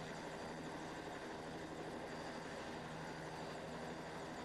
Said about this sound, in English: you hear the helicopter in the back